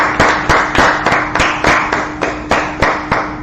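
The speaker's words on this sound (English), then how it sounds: "let's clap it up" An audience at a street protest gathering claps in a steady, even rhythm of about three claps per second, sharp and close, with no talk over it.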